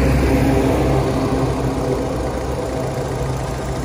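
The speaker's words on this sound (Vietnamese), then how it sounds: "Máy rất là êm" A Daewoo Cielo car engine idles smoothly and steadily with the hood open, producing a constant low hum at moderate loudness with no talking.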